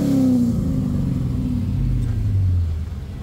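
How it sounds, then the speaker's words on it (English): A 1999 Chevrolet Camaro SS convertible engine revs up with a loud, close low rumble, then settles back toward idle as the throttle eases near the end. "I guess we could rev it up outside of the car. Let you hear it."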